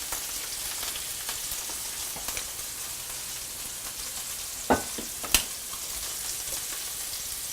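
Browned pork with red pepper flakes and melting peach preserves sizzles steadily in a pan, a constant broadband hiss with two sharp utensil clicks near the end as it gets stirred.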